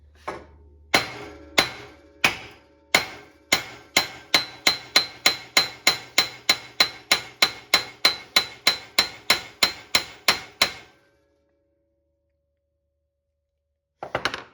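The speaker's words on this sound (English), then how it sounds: "We have to very kindly tap out our cotter pins." A hammer taps out cotter pins on a cheap Craigslist find, striking metal in a steady series of about thirty sharp ringing blows that speed up slightly, close and clear, followed by silence and a final faint knock.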